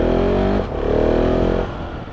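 A 2020 KTM 690 SMCR motorcycle engine with no exhaust fitted revs loudly up close, dipping briefly before climbing again into a steady, raspy roar that tapers off at the end.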